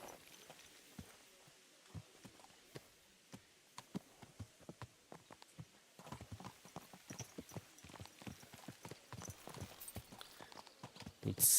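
Horse hooves clip-clop at a steady walking rhythm while riding in Kingdom Come: Deliverance II, the clopping growing busier and louder partway through over a quiet outdoor ambience.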